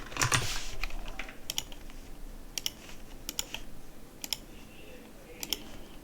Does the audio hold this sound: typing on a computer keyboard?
yes